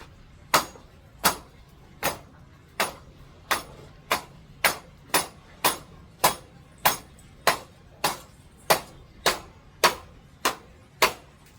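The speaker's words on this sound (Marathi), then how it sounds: "पहिल्यांदा आपल्याला हातोडा घ्यायचा आहे." Sharp hammer blows ring out one after another at an even, steady pace, roughly sixteen strikes, each crisp and metallic with a short decay.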